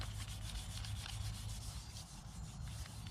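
Sandpaper rubbed back and forth along a wooden axe handle, a close, steady scratchy rasp in quick repeated strokes.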